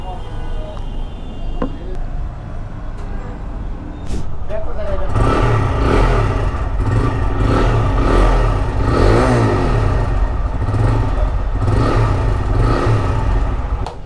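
A used 2022 TVS Raider motorcycle engine starts up partway through and runs loud and close with a pulsing, revving drone, while people talk over it throughout.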